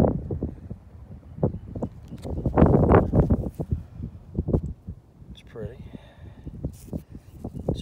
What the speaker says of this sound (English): Sorry about the wind. It's about killed us today.